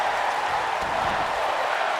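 Wrestling arena crowd at an SCW Showdown match, a steady roar of cheering and scattered clapping that fills the whole moment without a break, fairly distant and diffuse, with no talking over it.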